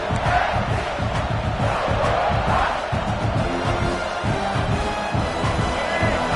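Large stadium crowd at a Louisville versus South Carolina college football game roars steadily, a dense, loud wash of cheering and shouting that holds throughout.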